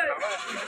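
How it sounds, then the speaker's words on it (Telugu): Goats bleat briefly at the Banaganapalle Friday goat market, a wavering, nasal cry mixed with the crowd's voices. "ఈ పక్క ఒక కట్ట ఉన్నాయి మేకలు"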